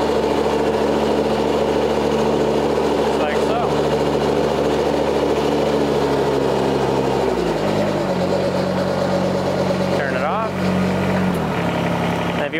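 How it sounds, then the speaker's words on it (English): A heavy Kubota BX series tractor engine runs steadily with its snowblower engaged, its low drone shifting pitch partway through as the load changes, loud and close with no talking. "if you speed up your engine"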